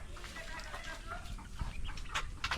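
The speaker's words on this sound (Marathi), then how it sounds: "कोंबडी ओरडत राहिलेत" A flock of chickens clucks at dusk in a Konkan village, scattered close clucks and squawks over a quiet rural background.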